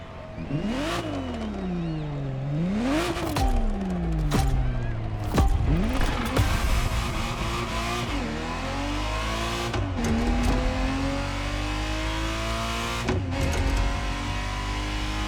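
Ferrari Testarossa in The Crew Motorfest video game, its engine revving loudly and continuously, pitch climbing and falling through repeated shifts, with occasional tyre squeal, close and steady throughout.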